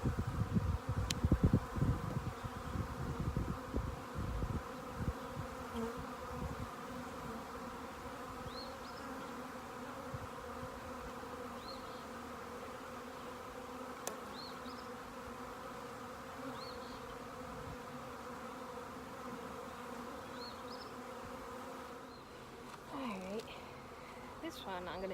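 A steady, dense buzz of many honey bees during a spring hive check fills the whole stretch, close and continuous, with a few soft knocks and rustles near the start.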